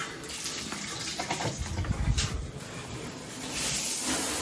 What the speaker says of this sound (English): Time to shower though, I'm finished my workout.